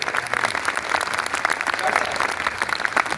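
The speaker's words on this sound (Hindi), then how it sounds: "एक बार पूरा सदन जोरदार तालियों से आग्रह करे" Audience applause in an assembly hall, a crowd clapping in a busy, rapid patter that stays moderately loud and steady for a few seconds.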